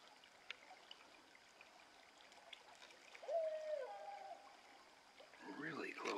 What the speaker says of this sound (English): Owl's quite close.